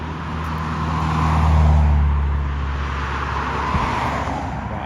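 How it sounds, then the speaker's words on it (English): Road traffic rushes past a shared riverside walking path in town, one car swelling loud and close before fading, over a constant roadway hum. "Very noisy with all the traffic though."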